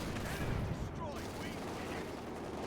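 Sten guns and a Vickers K machine gun fire in a Company of Heroes 2 battle. Rapid automatic bursts blend into a dense, steady rattle under a faint voice.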